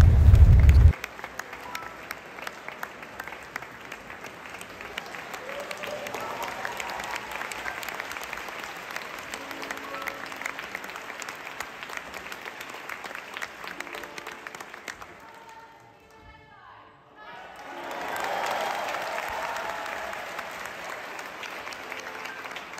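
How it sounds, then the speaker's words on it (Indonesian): A concert hall audience at Aula Simfonia Jakarta applauds after an orchestra performance, sustained clapping that dips briefly near the end before swelling again, with no talking over it. "Jadi kita semua sudah bisa tepuk tangan untuk memberikan apresiasi kepada para pemain orkestra."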